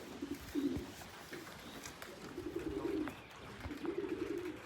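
Racing pigeons perched together give soft, repeated cooing calls outdoors. The rolling coos come in a few separate bursts, faint and fairly distant, with no voices over them.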